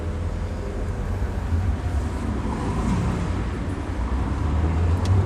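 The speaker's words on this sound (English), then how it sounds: "You gotta love that 6-cylinder engine" A BMW Z3 roadster with a 192 bhp six-cylinder engine driving with the roof down, producing a steady low engine drone and road rumble that builds slightly, with wind noise around it.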